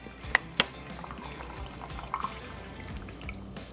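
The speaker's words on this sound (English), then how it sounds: "We'll just pour that juice into our strainer." Juice from a smoked ham pours into a strainer with a soft, quiet trickle and low liquid gurgling, broken by a few brief drips or clinks.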